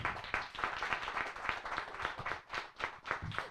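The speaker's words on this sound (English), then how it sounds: "we want to have another huge round of applause for sir" Audience applause at a literature festival session, a dense sustained wash of many hands clapping close and loud, with faint talk underneath.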